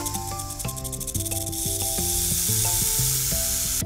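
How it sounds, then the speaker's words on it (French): A snake hisses in a jungle setting, a steady broadband hiss building and then holding loudly under a layered bed of musical tones. "un serpent glisse lentement et sort sa langue fourchue pour siffler"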